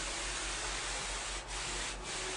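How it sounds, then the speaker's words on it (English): A high velocity, low pressure sprayer lays epoxy primer onto a claw-foot bathtub with a continuous soft airy hiss, faint and steady, with two brief dips in flow. "it's a high velocity, low pressure sprayer"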